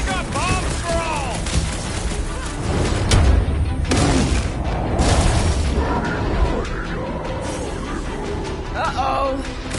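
Bombs go off in the Guardians of the Galaxy video game as a chaotic battle rages, with repeated booms and crackling bursts under shouting voices and music.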